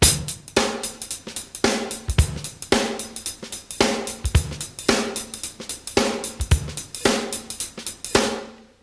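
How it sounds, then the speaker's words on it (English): A drum kit plays a steady swinging jazz-beat groove, with crisp cymbal and hi-hat hits over a regular kick and snare pattern, no voices. "you could take the jazz beat and apply it to some contemporary nice grooves"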